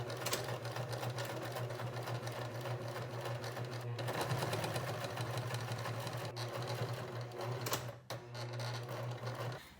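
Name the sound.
sewing machine sewing tube top seam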